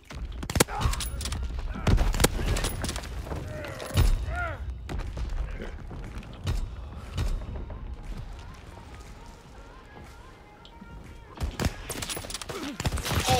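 Suppressed shots from an SDK 9mm sniper rifle in Call of Duty WW2, a few muffled sharp thumps spaced seconds apart among footsteps and game noise, with a player talking throughout.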